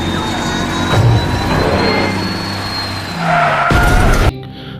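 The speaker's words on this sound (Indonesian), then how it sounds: "Lalu Evelyn pun mempraktekkan cara si Dom mundur di Fast and Furious" A car in a film reverses fast and skids, a loud engine roar joined by screeching tire squeal that swells before cutting off abruptly near the end, with no talking.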